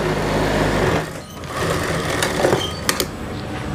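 Sewing machine stitching the seam of a churidar pajama, a steady close mechanical whir and needle chatter running throughout, with a few sharp clicks near the end.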